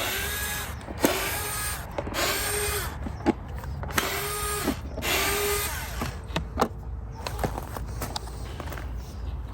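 Cover screws being backed out of a Honda CRF300L motorcycle with a power driver, several short whirring bursts in a row with clicks and handling noise in between, close and moderately quiet.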